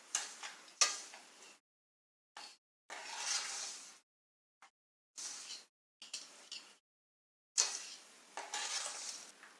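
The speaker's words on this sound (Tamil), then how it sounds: "சுகர் நல்லா கரையிற அளவுக்கு நல்லா கிண்டி விட்டுருங்க." Sugar being stirred into rava almond kesari in a pan, heard as repeated scraping strokes in short bursts separated by silent pauses, close and fairly quiet, with no talking.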